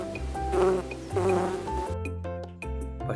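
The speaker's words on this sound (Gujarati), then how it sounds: "મધમાખી ઘણઘણે" A honeybee buzzes steadily for about three seconds, mixed with soft background music and tones, moderately quiet, with no talking.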